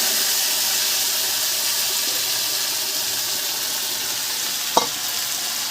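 Chicken marinated with yogurt, oil and salt frying with raw onion in hot oil gives a steady, loud, close sizzle, with a single sharp clink of a utensil near the end.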